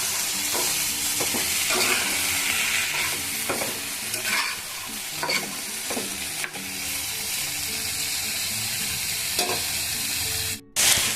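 Vegetables, chilli powder and tomato are stirred in a hot pan: a loud continuous sizzle with regular scraping and knocking strokes of the spoon, ending in a brief louder clatter.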